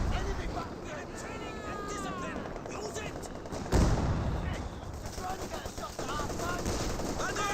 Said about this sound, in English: MG34 does suppress the intersection